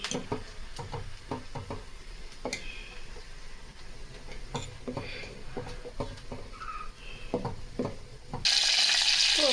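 Tempering of onions, dried red chillies, garlic, cumin and mustard seeds frying in oil for a dal rasam and egg fry meal, a steady close sizzle with scattered crackles and utensil taps, swelling into a loud burst of hissing near the end.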